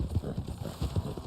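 Horse hooves clip-clopping in the video game Red Dead Online, a close, steady rhythm of quick paired hoof thuds at moderate loudness, alone with no talk.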